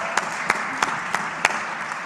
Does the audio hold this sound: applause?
yes